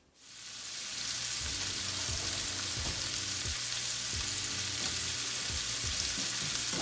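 Garlic butter chicken bites fry in a pan with a dense, steady sizzle that rises in the first second and then holds loud and even. Occasional soft knocks of stirring or shifting come through.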